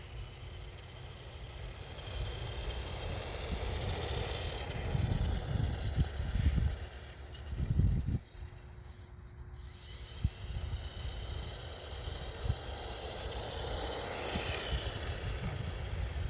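A Tamiya GF01 Land Cruiser RC car with four-wheel drive runs at full throttle, its electric motor whining steadily at close range, the pitch surging and dipping as it drives.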